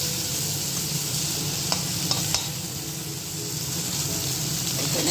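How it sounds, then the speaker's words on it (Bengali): Long flat beans frying in a pan, a steady close sizzle throughout with a few sharp clinks of a utensil stirring partway through, no voices. "এখানে হচ্ছে শিম ভাজা"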